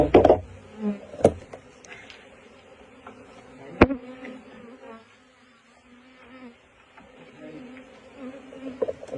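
Honey bees buzz around an open hive during a late-season inspection before winter, a steady drone with sharp knocks and clicks of hive handling at close range, no talk.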